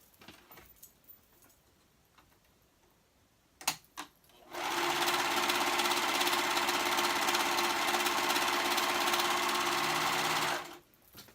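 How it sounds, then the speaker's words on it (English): A serger sewing machine overlocks the raw edge of a fabric waistband, running in one loud steady whir of about six seconds after a few soft handling clicks, then stopping abruptly. "so I'm going to serge the other raw edge"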